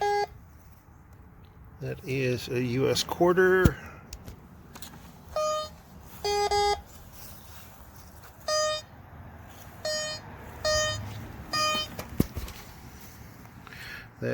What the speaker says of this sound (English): A couple of different beeps that it makes when it swings across one.